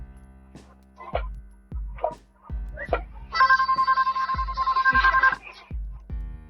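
A telephone rings with a steady electronic trill for about two seconds, mid-clip, over a repeating thumping beat with short vocal-like bursts.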